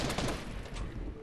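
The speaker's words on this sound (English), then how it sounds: "I'm being shot." Dense, continuous gunfire in the Fortnite video game, a rapid burst of overlapping shots filling the whole moment at moderate loudness, with no talk.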